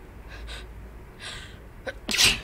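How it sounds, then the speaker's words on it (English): A single sharp sneeze near the end, preceded by a couple of soft breathy intakes; close and fairly loud with no talking. "Or I'm getting a sneeze."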